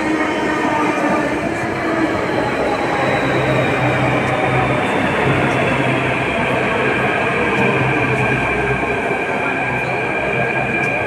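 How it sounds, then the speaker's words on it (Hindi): A Delhi Metro train pulls into the station with a steady, loud rumble of wheels and motor hum, joined by a sustained tonal whine. The sound runs continuously throughout with no talk. "तो आ गई हमारी दूसरी ट्रेन भी जो लाल किले तक जाएगी"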